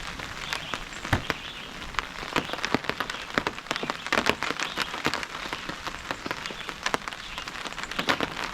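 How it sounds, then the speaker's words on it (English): Steady rain patters on leaves and surfaces all around in a forest during a thunderstorm at 6,000 feet, with frequent sharper drops striking close by; no voices. "It's actually raining nicely out here."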